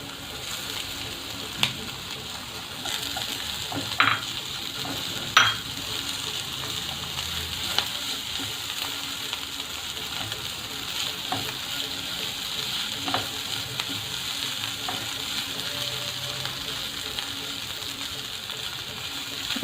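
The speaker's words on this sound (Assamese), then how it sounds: "এতিয়া ইয়াত আমি বইল আলুখিনি দি দিম।" Boiled potatoes frying with onions in a pan give a continuous soft sizzle with occasional clinks and scrapes of a spatula, close and steady throughout with no talk.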